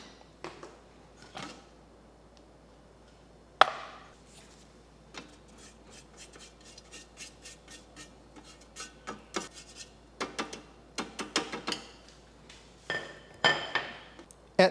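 A spatula scrapes down the sides of a Thermomix bowl while meatballs in tomato sauce are being made: close scraping and rubbing strokes with occasional clinks against the bowl, sparse at first and then busier, with no speech.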